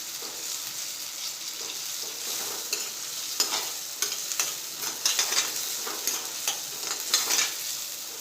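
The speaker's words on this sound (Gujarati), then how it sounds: "આ રીતે લસણ અને લાલ મરચાંને મેં ક્રશ કરી લીધું છે, એ આપણે એડ કરી દઈશું અને આ રીતે સરસ મિક્સ કરી લઈશું।" Crushed garlic and red chili being stirred into tomato and onion frying in a pan for a masala okra dish, a soft constant sizzle with scattered close scraping and clinking stirring strokes, no voices.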